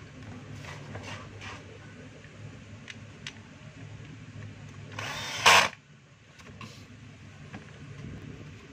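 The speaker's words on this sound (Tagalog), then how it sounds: "na-screw ko na po yung 4 na screw" A power tool drives screws into a DeWalt D25032 rotary hammer during repair. A single short, loud whirring burst of under a second stands out over a low background hum and a few light clicks.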